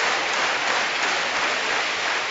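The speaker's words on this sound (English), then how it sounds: "supportive applause" Spectators at a badminton match at the Falconer Centre give dense, sustained applause, a steady wash of clapping from a large crowd with no talk over it.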